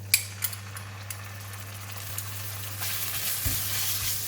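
Minced pork drops into hot garlic oil in a pan, giving a few sharp clinks at first and then a rising, steady sizzle of frying, close by and with no speech.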